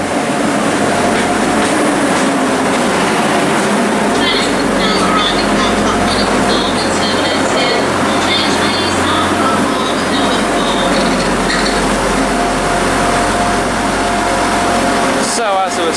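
Class 175 diesel multiple unit 175115 at Warrington Bank Quay station on the West Coast Main Line, a loud continuous engine rumble and rolling noise lasting throughout.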